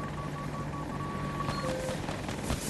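A helicopter passes overhead in a video game, a steady wash of rotor noise with faint whining tones, fairly quiet and unbroken throughout.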